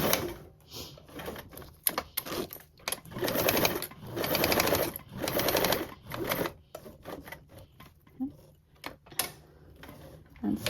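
Domestic sewing machine running a seam on a craft pattern project, in several bursts of rapid stitching separated by brief pauses, close and clear with no talking.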